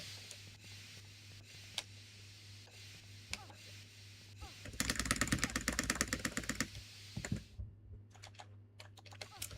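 Fast computer keyboard typing bursts out in a dense run of clicks midway, with sparser keystrokes before and after, close up, over a low steady hum during Resident Evil 3 play.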